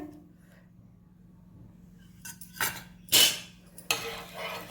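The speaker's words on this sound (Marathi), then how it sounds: "स्टीलचा चमचा वापरू नका तवा खराब होईल" A steel spoon scrapes and clanks against a dosa tawa in a home kitchen, a few sharp metallic scrapes and knocks rising out of a quiet hum in the last half.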